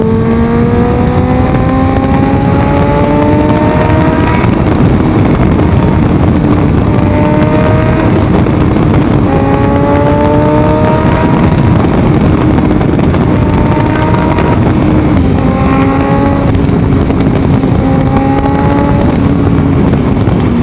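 A big bike motorcycle cruising on an expressway, its engine droning and rising in repeated upshifts while heavy, constant wind roar buffets the microphone at high volume throughout.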